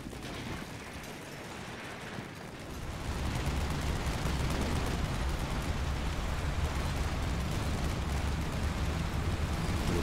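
Gunfire and explosions in the Combat Mission Cold War video game, a faint rumble that swells after a few seconds into a dense, continuous roar of distant shooting and blasts, with no talking.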